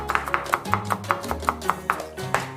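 A knife slices shallots on a cutting board in quick, regular strokes, about a dozen crisp taps in a steady rhythm, close and clear with no talk.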